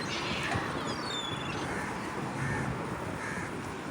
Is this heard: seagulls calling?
yes